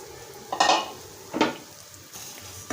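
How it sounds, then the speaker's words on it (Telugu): Smashed ingredients fry in ghee in a pan for sheer khurma, with two sharp scraping stirs of a utensil against the pan over a faint background hiss, close and without speech. "వీటిని మంచిగా బ్రౌన్ కలర్ వచ్చే వరకు ఫ్రై చేయండి."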